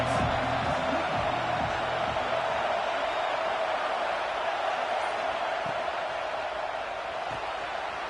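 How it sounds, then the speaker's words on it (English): Dense football stadium crowd noise at a UCLA game, a loud, continuous roar that swells slightly early on and holds steady, with faint murmuring mixed into the wash. "This crowd trying to make life miserable for this offense."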